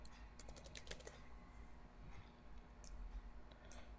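A heading is typed on a computer keyboard: quick runs of light, crisp key clicks with short gaps, soft and close in an otherwise quiet room.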